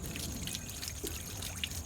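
Water trickles and pours into a small pico hydroelectric waterwheel, a soft, steady splashing flow heard fairly quietly and alone.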